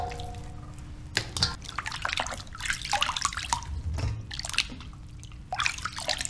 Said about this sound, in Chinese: 用清水清洗干净